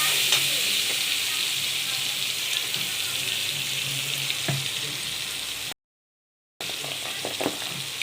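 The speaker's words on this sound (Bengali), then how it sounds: "পেঁয়াজটা ভালো করে লাল করে ভেজে দিতে হবে।" Chopped onion frying in hot oil in a pan for achari chicken curry, a loud steady sizzle with occasional stirring clicks, broken by a short silent gap.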